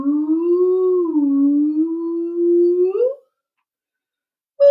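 A human voice imitates a whale with a long, wavering, gliding hoot sustained for about three seconds, then silence before a brief start of another call.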